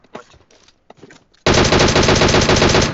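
Automatic gunfire in the mobile shooter PUBG Mobile bursts in after faint, scattered noises and keeps up a loud, rapid stream of shots for the final second and a half.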